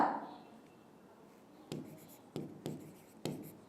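Chalk or marker writing on a classroom board, in four short scratchy strokes separated by brief pauses after a quiet start, fairly close and alone.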